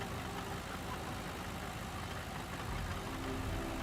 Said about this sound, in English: I need the engine on in there as well.